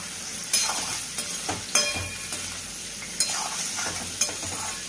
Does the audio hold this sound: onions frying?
yes